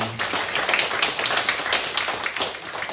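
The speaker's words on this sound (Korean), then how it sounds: "박수 한번 하겠습니다." A church congregation at a Sunday service applauds, a steady patter of overlapping hand claps lasting a few seconds with no talking.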